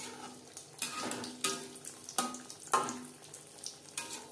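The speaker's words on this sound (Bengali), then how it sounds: "তেল আমার গরম রয়েছে। এবার ভাজবো" Crispy chicken patties go into hot oil over a low flame, with a soft watery bubbling and sizzle that swells in repeated bursts, quiet and close.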